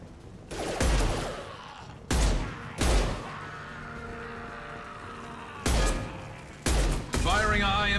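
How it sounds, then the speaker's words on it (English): Heavy high-impact gunshots from a Mass Effect 2 battle, about five loud, sharp blasts at irregular intervals over a low droning background, with voices speaking between them. "Firing a high-impact shot."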